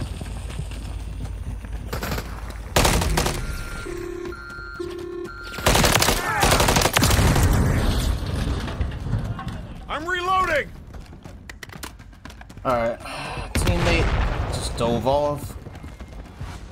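Rapid bursts of gunfire from a Call of Duty Modern Warfare 3 Zombies match on PS5 crack out in loud clusters, mixed with game effects and sporadic voices talking over the action.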